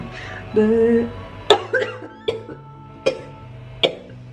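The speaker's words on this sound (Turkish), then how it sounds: "Niye öksürüyorum ben?" Several short, sharp coughs at uneven intervals, close to the mic, following a brief stretch of voiced sound.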